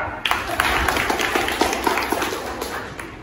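Applause from an audience at a college batch get-together in Pune: a short burst of many hands clapping, fairly close and loud, tapering slightly over a few seconds.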